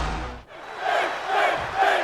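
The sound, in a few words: crowd cheering in wrestling video game WWE 2K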